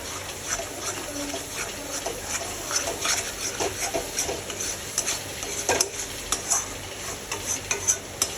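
Spiced masala fries in oil for chicken kofta while a utensil stirs it constantly, giving a busy close sizzle broken by rapid scraping and clinking strokes that grow livelier toward the end; nobody speaks.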